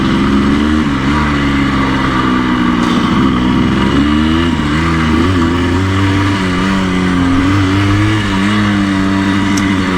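A 1984 Yamaha RS 125 motorcycle engine revs up and down repeatedly, loud and close, its pitch rising and falling over a steady rumble.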